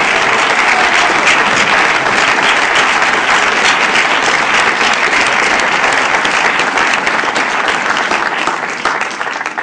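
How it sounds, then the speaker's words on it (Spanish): A church congregation applauds during a Spanish-language sermon, loud and sustained clapping from a full room that stays even for nearly ten seconds before easing off slightly. "Un aplauso a Jesucristo, hermano."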